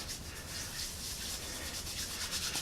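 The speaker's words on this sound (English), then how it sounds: "you just rub it in your hands, break it apart" Close, steady rubbing and scratchy rustle of fibrous fat rope stick fire starter being worked apart between the hands, a continuous dry, hissy texture at low level.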